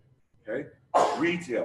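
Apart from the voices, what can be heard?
sneeze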